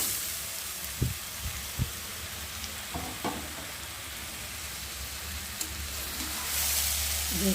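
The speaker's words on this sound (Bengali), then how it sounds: "তো চলো এখন ভালো করে ধুয়ে আনা ডালিয়া আর ডালগুলোকে এখন আমি সবজির মধ্যে ঢেলে দেবো।" Washed dalia and lentils poured into vegetables cooking in a hot pot, a few soft thumps and splashes over a steady low sizzle, fairly quiet with no voices.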